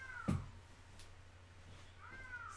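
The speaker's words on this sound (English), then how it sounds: "Cat is crying again." A house cat cries with a single clear meow, followed by two fainter, drawn-out meows near the end, over a quiet indoor background.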